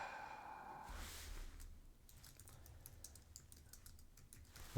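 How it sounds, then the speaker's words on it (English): Typing on a computer keyboard while entering an indicator into a trading chart program, a steady run of faint clicks over background noise, some louder keystrokes near the end. "I'm going to type in EMA."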